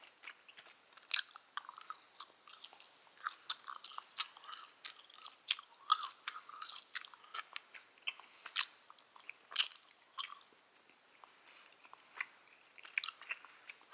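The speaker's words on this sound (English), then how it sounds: "I'm just chewing gum." Gum being chewed close to the mic, with wet clicking and smacking bites repeating in an irregular rhythm throughout, quiet and with no talking.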